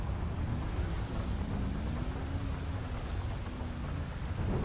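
Rain in the video game GTA 5 gives a steady, dense hiss with a low rumbling bed and a faint tonal hum, constant throughout with no voices.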